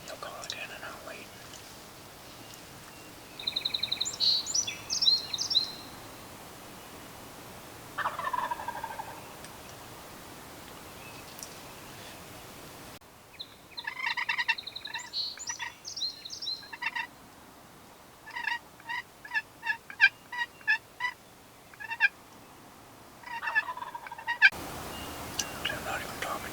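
Distant wild turkeys gobble in several rattling bursts, with whispering voices nearby between and over the calls.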